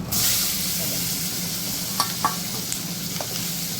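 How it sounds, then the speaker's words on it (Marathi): Green chillies sizzle and fry in hot oil with turmeric in a pan, a steady close hiss with a few brief stirring clicks and pops. "हळद मस्त तळली बघा. आता त्याच्यामध्ये ह्या मिरच्या टाकते मी."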